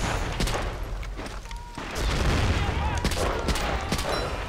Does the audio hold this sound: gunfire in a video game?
yes